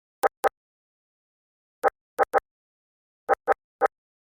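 A percussion sample, pitched down an octave and reversed in FL Studio, plays as eight short, swelling hits in three uneven groups across silence. The hits are clean and punchy, and there is no talk.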